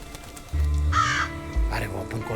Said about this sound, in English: And then we have the crow